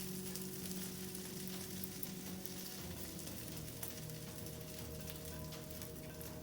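Scrambled eggs sizzle in melted butter in a hot pan, a steady close crackling hiss that holds at an even level throughout, with a faint hum beneath it.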